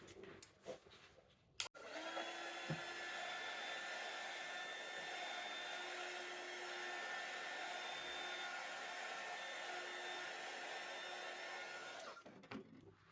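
A hair dryer blows over layers of ink on a paper junk-journal page, a steady close whir running for about ten seconds with no talk.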